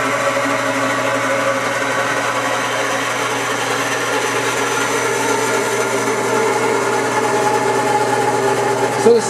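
A Kwik Way cylinder head rebuilding machine runs steadily with a constant motor hum and whir, the drive being slowed from 300 to 50 RPM, with a faint shift near the end.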